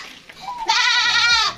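A goat bleats loudly and close by in one long, wavering cry that starts with a thin rising note and then swells. It is heard alone, with no speech.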